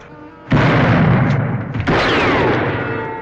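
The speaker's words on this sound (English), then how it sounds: "What are you shooting at me for?" A gunshot blasts out loud and close, a heavy boom followed by a second crack with a ringing echo trailing away, in an old Western radio drama.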